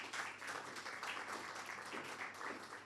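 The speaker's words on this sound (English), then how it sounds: "Can we have a round of applause for Dr." An audience applauds a guest speaker at a forum event, a steady, dense patter of many hands clapping at moderate distance for a few seconds, with no voices over it.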